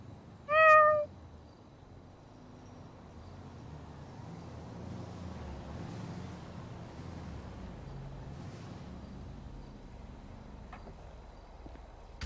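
A cat in a video game, near the Sandy airfield, gives one clear, loud meow right at the start, followed by a long stretch of faint, low ambient rumble.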